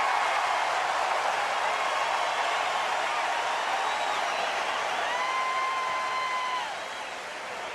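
Baseball stadium crowd at an Oklahoma vs LSU Super Regionals game, a loud continuous wash of cheering and roaring from the stands that fades slightly at the end.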